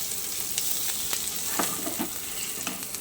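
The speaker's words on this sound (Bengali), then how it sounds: "তেলের মধ্যে আমি পেঁয়াজ কুচানো দিয়ে দিচ্ছি" Chopped onions fry in hot oil in a wok with a close, steady sizzle, crackling throughout with scattered sharp pops and the occasional scrape of stirring.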